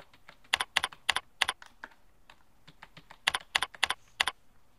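Keystrokes on a computer keyboard as a PIN is entered, two quick bursts of several crisp clicks separated by lighter taps, close and alone with no voices.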